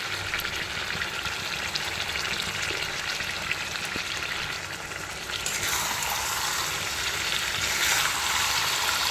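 Meat sizzles steadily in hot oil as it is slow-sautéed for Bengali mangsho kosha, a loud, continuous crackle with a brief shift in texture midway and no talking.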